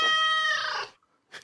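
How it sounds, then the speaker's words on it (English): A cat gives one drawn-out, strained meow lasting under a second, loud and close, followed by a short pause and a brief faint second sound. "It was a cat."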